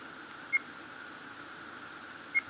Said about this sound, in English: We definitely do not need that beep.